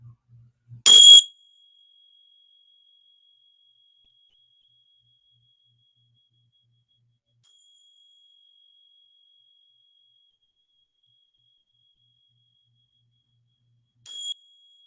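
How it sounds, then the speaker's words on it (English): At the close of a meditation, a struck bell gives a bright ring that fades into a long, thin sustained tone, followed after a long silence by a fainter second strike. "3 strong bells there at the end"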